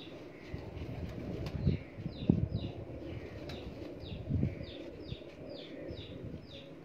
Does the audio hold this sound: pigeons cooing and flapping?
yes